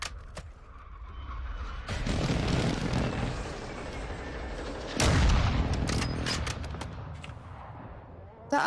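Airstrike explosions in Call of Duty Warzone over Al Mazrah hit as two heavy booming blasts with rumbling tails, mixed with scattered gunfire cracks and a background hum.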